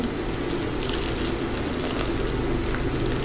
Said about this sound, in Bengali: এই যে শুটকিটার মধ্যে এখন গরম পানি দিয়ে দিব